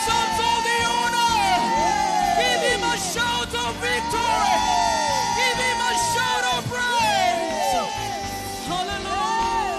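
A church congregation at a praise and worship service shouts, whoops and cheers, a dense crowd roar with voices rising and falling over loud sustained instrumental music.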